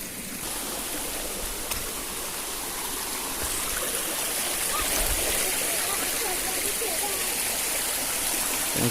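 Stream water rushing near Kavladi waterfall in Ratnagiri, a steady close broadband roar of flowing water, loud and continuous, with a voice speaking over it.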